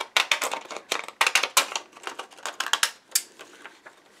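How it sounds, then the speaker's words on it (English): Decorative border scissors snipping through paper pictures, a quick run of close, crisp cutting clicks and rustles in an uneven rhythm, with no talking. "I'm going to use my fancy schmancy border scissors for this."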